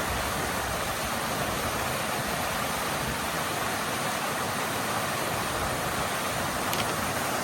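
A steady, dense rush of falling water roars continuously, filling the whole scene with unbroken noise.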